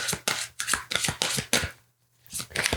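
Tarot cards shuffled in quick rhythmic bursts of papery riffling, several close-up flurries separated by short pauses, with a low steady hum beneath and no talking.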